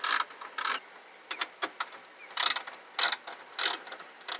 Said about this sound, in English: This is held in place by a couple bolts that you will need an 8mm socket to remove.